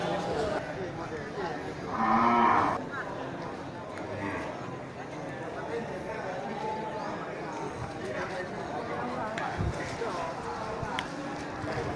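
Cattle, including Simmental and Aceh cows, at a livestock market: one loud, close moo stands out early over a constant crowd murmur and scattered animal sounds, with people talking throughout.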